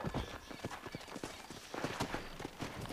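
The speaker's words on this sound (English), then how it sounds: "Here, I'll call a horse for you." Hoofbeats of a horse in the Red Dead Redemption video game, a quick, irregular clatter of galloping hooves over a steady background, fairly close and with no talk over it.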